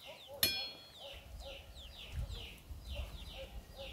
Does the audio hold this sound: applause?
no